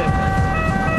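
An ambulance siren wails steadily and loudly from nearby, with engine and traffic rumble underneath and no voices.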